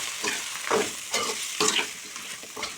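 Tomatoes stirred into a brinjal and fish curry in a pan, several distinct stirring strokes with a wet sizzle, close up and steady, no voices.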